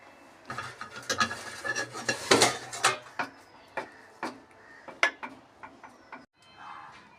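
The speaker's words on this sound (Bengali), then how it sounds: "এলাচ আর দারচিনি আর একটু মিক্সড করে দিচ্ছি" Cardamom and cinnamon are mixed into fried rice in a pan, heard as a series of sharp, close metal spatula scrapes and clinks in irregular bursts, densest early on and thinning toward the end.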